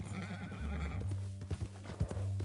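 Hooves clip-clop steadily as a horse trots in the video game Red Dead Redemption 2, then a horse whinnies loudly close by, over a low constant hum.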